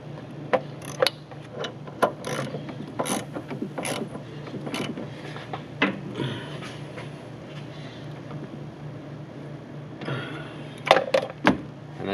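Repeated clicking of a ratchet tightening the upper motor mount bolts on a Nissan Juke during a MannyMount install, with bursts of sharp ticks spread across the clip over a low steady hum, close and moderately loud.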